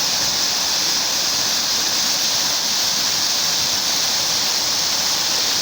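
Waterfalls in steep canyons of the Sierra Suroeste in Spain, a steady, dense rush of falling water that holds constant and fills the whole scene without a voice over it.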